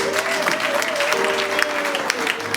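Church congregation applauding, dense steady clapping from a large crowd filling the room, with a voice faintly sustained underneath.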